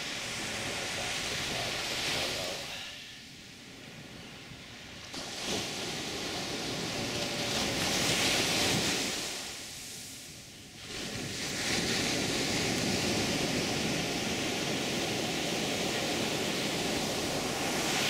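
Big ocean waves roll in at Playa Potrero beach in Costa Rica, with swelling surges of surf that rise and recede in slow cycles over a continuous roar, plus some wind buffeting.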